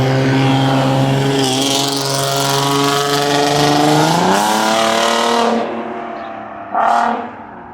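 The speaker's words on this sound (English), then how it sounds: "Some dude just decided to just rev his engine" A car engine revs outside, loud and close, its pitch climbing in rising sweeps before cutting off and fading. A second short rev bursts out near the end.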